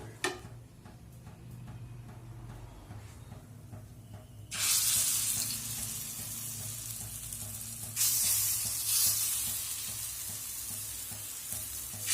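Red lentil paste fritters with onion frying in a little oil on a griddle; a soft crackle at first, then a louder steady sizzle that swells again midway, with faint ticking in the background.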